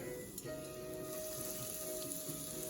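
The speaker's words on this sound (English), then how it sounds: "you can hear it already start to sizzle on the medium-high heat" Chicken cordon bleu sizzling in hot oil over medium-high heat, a steady, fine crackling hiss with a faint tonal hum underneath, fairly quiet and continuous.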